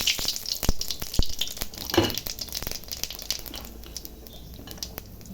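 White cumin seeds crackle and sizzle in hot oil in a wok, sharp pops and ticks scattered over a steady frying hiss that eases toward the end, close by with no talking.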